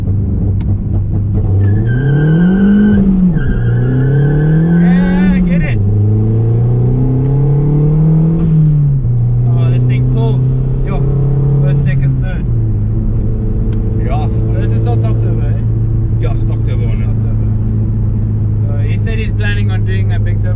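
A 350 hp Mazdaspeed 3 (MPS) on its stock turbo launches hard, its engine note rising and falling through several loud revs with a brief tire squeal, while people talk and cheer over it.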